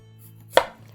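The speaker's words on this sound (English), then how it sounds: "if you're cutting them by hand, you really want to have a good sharp knife" A dull kitchen knife sawing through purple daikon and watermelon radish for pickles lands one close, crisp chop against the board in an otherwise quiet moment.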